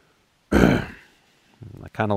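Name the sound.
imitated growl like throat clearing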